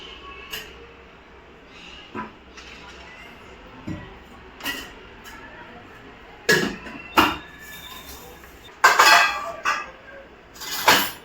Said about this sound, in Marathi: कढई गरम करायला ठेवलं, त्याच्यामध्ये तेल ॲड केलं.